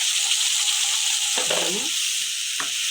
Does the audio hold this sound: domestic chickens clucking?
no